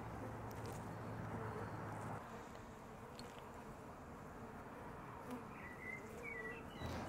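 Honeybees drone steadily in an opened hive during a hive division, a dense continuous buzz close by with a few higher passing whines.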